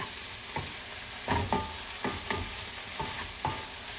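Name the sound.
spinach cooking in butter in a pan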